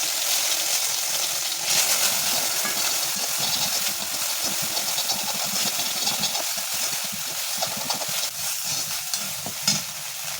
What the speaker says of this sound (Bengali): আমি সবজিগুলো কেটে এবার রান্নাটা বসিয়ে দিলাম